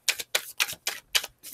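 Tarot cards being shuffled by hand, six quick crisp riffling bursts in an even rhythm, close and soft with short pauses between.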